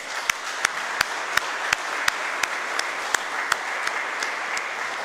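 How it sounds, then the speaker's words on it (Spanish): A church congregation at a Catholic Mass claps steadily for an ordination, moderately distant, with a few sharper individual claps standing out over the even patter. "Te felicitamos por tu ordenación con un fuerte aplauso"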